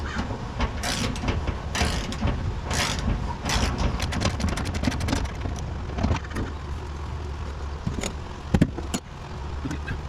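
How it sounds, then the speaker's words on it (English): Ratchet straps being tightened on a 1969 Dodge Charger during rear suspension work, giving repeated close mechanical clicking and ratcheting bursts in an irregular rhythm, no voices. "Tighten in the straps somewhat evenly as I go up."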